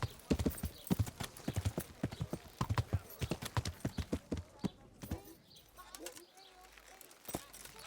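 Horse hooves clip-clop in steady, quick beats in Kingdom Come Deliverance, clear and close for several seconds. The beats then slow and thin out, and bird coos sound faintly in the background.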